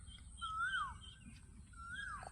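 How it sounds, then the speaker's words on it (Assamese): An Asian koel calling twice, each a clear rising-then-falling whistled note heard at a moderate distance over quiet rural background, spaced about a second and a half apart. "কুলিৰ মাত"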